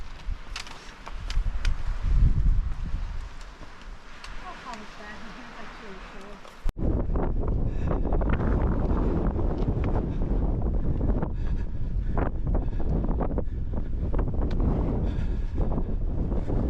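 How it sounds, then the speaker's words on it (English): Strong wind buffets the microphone on an exposed mountain trail in Mahoosuc Notch on the Appalachian Trail, a steady roaring rush that turns louder and rougher partway through, with a voice talking over the first part. "it's getting colder and the wind's picking up"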